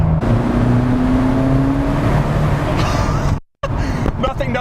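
A Ferrari F40's turbocharged engine accelerates hard inside a tunnel, its rising, echoing roar climbing in pitch before a brief cut as the gear changes, then resuming loudly.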